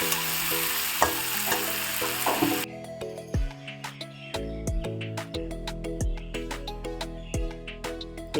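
Masala for a Bengali kabuli chickpea ghugni fries in a pan as the reserved chickpea boiling water goes in, with steady close sizzling broken by repeated knocks and scrapes of a stirring spoon.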